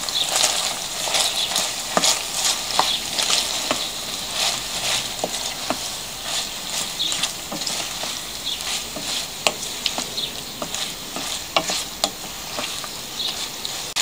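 Sweet paprika being stirred into oil in a frying pan, a steady bright sizzle with frequent scraping clicks of the utensil throughout, close and continuous with no talking.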